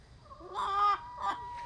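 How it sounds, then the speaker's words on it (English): Backyard chicken flock clucking softly in a few short bursts, fairly faint and slightly distant, over a low steady background hum with no talking. "this is my backyard chicken flock"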